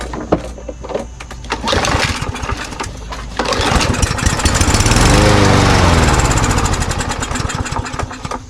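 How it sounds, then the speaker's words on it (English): A Briggs & Stratton 550ex push mower engine cranks with a few pulls, catches on starting fluid and runs loud and rough for several seconds, its speed surging and falling as it begins to die. "It started and died on starting fluid"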